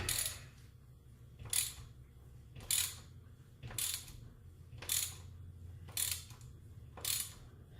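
A ratchet wrench works a part loose in seven evenly spaced clicking, ratcheting bursts, each a close, crisp metallic rattle with pauses between.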